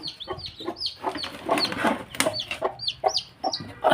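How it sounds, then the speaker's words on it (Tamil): Hens cluck busily close by among newly hatched chicks, with repeated short clucks and chirpy calls overlapping in quick succession, fairly loud and near. "பதினாலு குஞ்சு பொறிச்சிருக்குங்க"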